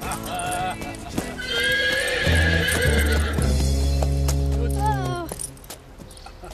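A horse whinnies loudly and close while hooves clip-clop in a steady rhythm underneath, the neigh rising and falling over several seconds amid a busy cartoon soundtrack.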